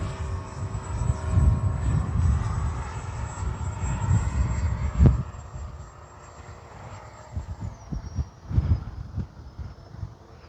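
A Freewing F-22 80mm electric ducted-fan RC jet flies past, its turbine-like whine and rumbling airflow swelling loud, fading and surging again at a distance, with no talking.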